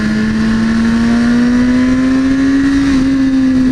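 A McLaren sports car in sport mode accelerates with a loud, steady engine note that climbs gradually in pitch, close and continuous with no pause.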